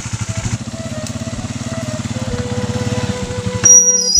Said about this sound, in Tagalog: Ambot unsay sakit aning motor ma'am oy.